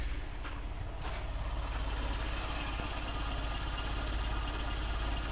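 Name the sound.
Mercedes W124 carburetor engine idling at low RPM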